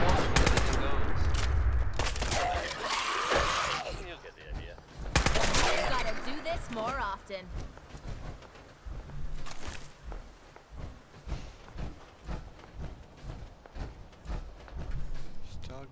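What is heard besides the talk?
gunfire in the video game Fallout 4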